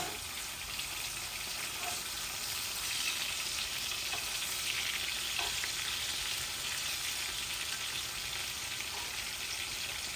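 Pangas fish fry in a pan after being flipped, giving a soft, continuous hiss of sizzling oil with faint occasional crackles, fairly quiet and alone.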